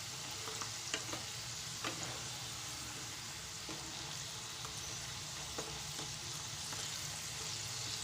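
Potato French fries frying in oil, giving a soft, steady sizzle with occasional light clinks and stirring knocks, fairly quiet and close, no clear speech.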